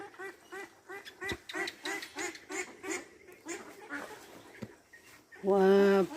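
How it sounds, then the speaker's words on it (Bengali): Ducks quack repeatedly in a rhythmic series in an outdoor village setting, moderately close, with a louder honking burst near the end. "এই হাঁসগুলো এত সুন্দর এখানে লাফালাফি করছে"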